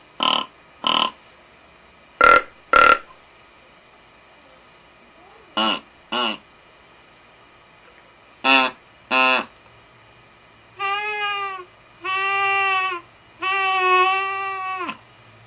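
A series of short nasal bleats, then longer wavering grunting calls, all close and alone, from a Rod Benson Soft Touch deer call sounded by inhaling through its flex hose.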